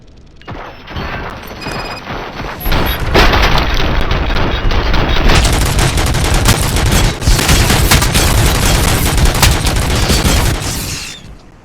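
Sustained gunfire from the RoboCop: Rogue City video game, a dense, loud fusillade of rapid shots with mechanical clatter that builds after a few seconds and rattles on continuously before tapering off.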